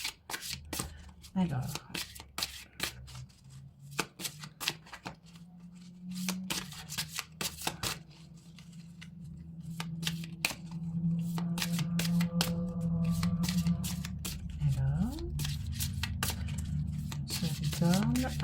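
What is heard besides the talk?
tarot cards being shuffled and drawn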